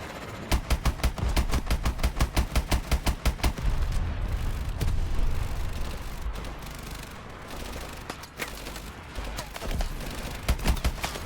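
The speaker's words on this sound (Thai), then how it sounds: "อ้าวระเบิด ระเบิด" Video game gunfire from Call of Duty: Advanced Warfare rattles out in a fast, evenly spaced burst, followed by scattered shots and rumbling combat noise at moderate loudness.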